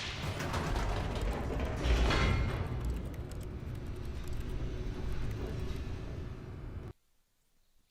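Elevator in the video game The Stanley Parable moving with a steady mechanical rumble and ratcheting, creaking gear noise throughout, close and fairly loud, then cutting off abruptly near the end.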